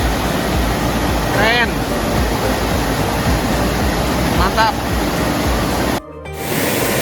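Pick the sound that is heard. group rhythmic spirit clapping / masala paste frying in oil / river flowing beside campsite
river flowing beside campsite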